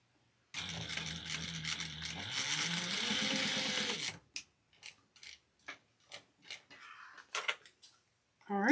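A sewing machine runs a continuous basting stitch of one-eighth inch on a crossbody bag for several seconds, its motor whirring and rising in pitch, then stops, followed by scattered clicks and handling taps.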